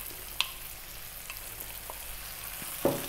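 Chopped tomatoes go into a pan of onions and cumin seeds frying in oil for a lamb curry, giving a soft, steady sizzle with a couple of faint clicks and stirring sounds, no talking.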